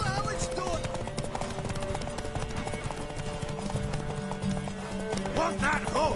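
Galloping horse hooves in The Witcher 3, a rapid steady clip-clop pounding under game music, with voices talking over the racing rhythm and a brief whinny.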